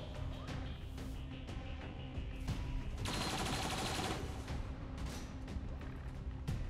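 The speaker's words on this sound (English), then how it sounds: "Are the turrets shooting our mind control person?" Automated turrets fire in XCOM 2, dense rapid bursts of gunfire layered with impacts and a sustained loud volley in the middle, continuous and close throughout.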